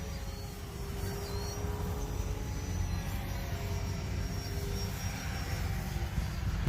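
An E-flite Turbo Timber RC airplane makes a low pass, its electric motor and propeller giving a steady buzzing whine that swells slightly as it nears.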